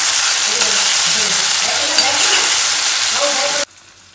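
Tomato and asafoetida frying in a pan while being stirred, a loud, close, continuous sizzle with scraping stir strokes, cutting off abruptly near the end.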